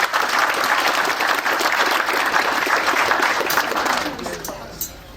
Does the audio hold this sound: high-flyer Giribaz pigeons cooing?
no